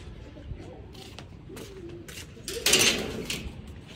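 Pigeons cooing softly in a low, throaty burble, a couple of short calls rising near the middle and end over background hum and some rustling.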